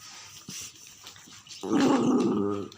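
A pet lion lets out a low, throaty growl that swells into a loud, sustained rumbling roar near the end. Faint rustling and soft sounds come before it.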